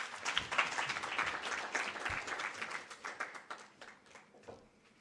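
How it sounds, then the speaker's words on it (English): Audience applause at a memorial lecture, a steady burst of many hands clapping that thins and fades toward the end. "A round of applause, please."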